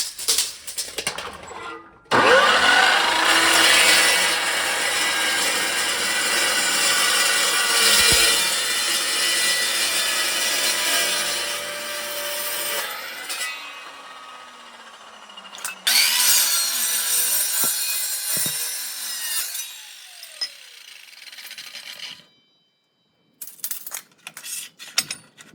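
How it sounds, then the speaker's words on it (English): Power tools cutting metal tube for a buggy build in a workshop, a long loud grinding, rasping cut lasting over ten seconds, then a second shorter burst, and scattered clanks as the work is handled. "I am going to start cutting and drilling this."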